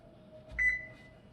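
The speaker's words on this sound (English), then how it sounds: "I'll set the timer for 15 minutes." An oven being set to 450 degrees for baking sourdough bread gives one short, clear electronic timer beep over a faint steady appliance hum.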